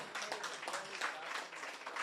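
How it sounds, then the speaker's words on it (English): Attendees at a political cottage meeting clap for a speaker, a soft, somewhat distant patter of applause with uneven bursts and no voices on top. "Let's have another round of applause for Janelle."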